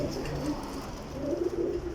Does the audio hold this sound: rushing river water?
no